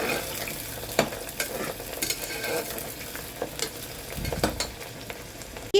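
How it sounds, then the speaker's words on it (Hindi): Onions browning in a pan for Lucknow-style boti kabab make a continuous low frying sizzle, punctuated by scrapes and light knocks of a spoon stirring them, with no talking. "तो हम चलाते हुए प्याज को ब्राउन करेंगे।"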